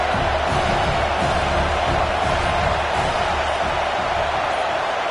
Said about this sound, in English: The Tide crowd roaring noise down on the Saban field on 3rd down.